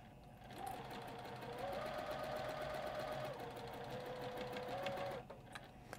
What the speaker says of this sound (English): make sure you do a little back tack stitch because that is a high stress area